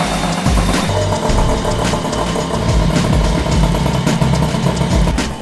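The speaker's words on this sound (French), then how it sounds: "démarrer votre moteur" An MBK 51 moped two-stroke engine runs close by after an MVT ignition is fitted, a loud, busy, rattling idle with uneven pulsing throughout and no voices.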